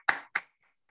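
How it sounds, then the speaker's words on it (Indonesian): Two sharp, close hand claps in quick succession, then quiet, welcoming participants at an online technical report writing workshop. "Let's put our hands together to welcome everybody to this program."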